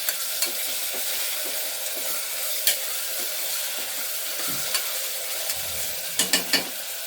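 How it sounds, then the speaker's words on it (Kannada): Sliced onion and tomato fry in a pan with a steady close sizzle, broken by a few sharp scrapes and taps of stirring near the end; no one speaks. "ಸೊ ಟೊಮೊಟೊ ಹಾಕಿ ಇವಾಗ ಎರಡನ್ನೂ ಚೆನ್ನಾಗಿ ಫ್ರೈ ಮಾಡೋಣ."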